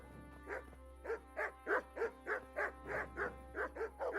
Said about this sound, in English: The dogs are awake